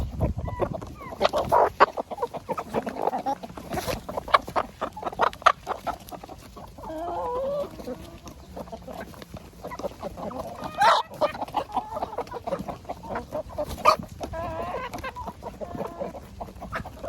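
Laying hens clucking steadily while gobbling bread from a bucket, several birds close by with irregular soft clucks and pecking noises, and a voice briefly heard.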